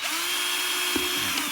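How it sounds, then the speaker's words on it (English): A small electric screwdriver bores a hole through the bottom of a plastic bottle, its steady whirring motor running alone and close throughout, with a couple of brief knocks near the end. "I'm just going to get my screwdriver and I'm just going to drill a hole at the bottom."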